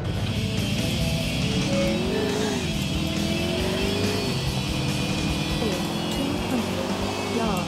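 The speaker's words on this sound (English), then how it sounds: "I'll take the free car." A car engine in the video game Grand Theft Auto 4 revs and shifts pitch up and down continuously as it drives, loud and constant with tire and road noise layered over it.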